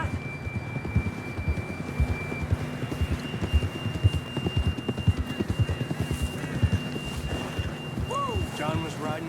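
Horse hooves galloping in the video game Red Dead Redemption 2, a continuous rapid clip-clop rhythm over wind and ambient rumble, with a whinny-like call near the end.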